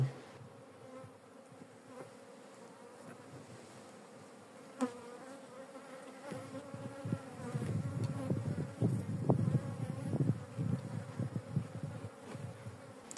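Bees buzzing at a horizontal Kenyan top-bar hive during an inspection, a continuous droning hum that starts soft and swells with louder, close passing buzzes in the second half, with occasional light handling knocks.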